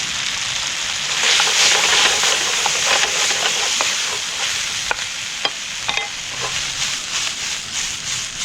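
Steady sizzling hiss of a hot pan as sweet white wine and pre-made tomato sauce go in for a squid dish, loud and close with light scraping clicks, no talk.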